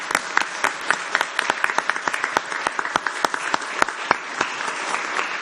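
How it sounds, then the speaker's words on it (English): A city council meeting room fills with loud, close applause for a graduating student. Many hands clap in a dense, uneven patter with sharp individual claps standing out, sustained throughout and with no one speaking. "give her a round of applause here."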